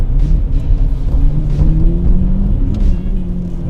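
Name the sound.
Lamborghini Murcielago engine rumbling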